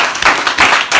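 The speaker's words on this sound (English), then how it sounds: "Please give him a round of applause." School students clap together at a self-confidence session in Ikorodu, a short, dense burst of applause filling the whole moment with no pause.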